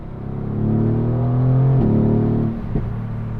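Mercedes-AMG GT R engine, warmed up in cold weather, revving from a steady low drone into a louder, rising pull and then settling back, heard close and continuous with no talk.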